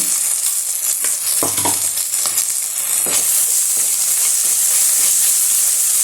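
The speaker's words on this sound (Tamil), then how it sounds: "இஞ்சி பூண்டு பேஸ்ட்டு நல்லா வாசனை வர வரைக்கும் கொஞ்சம் நல்லா ஓரளவுக்கு ஃப்ரை ஆகிற வரைக்கும் வதக்கிடுங்க" Liver with ginger garlic paste sizzles in a hot pan, a steady close frying hiss broken by a few scraping stirs and clicks early on, the sizzle swelling louder toward the end, no one speaking.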